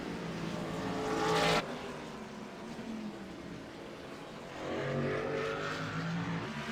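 Race cars roaring around a track, engines swelling as they pass close, fading, then another car building in, loud and continuous with no talk.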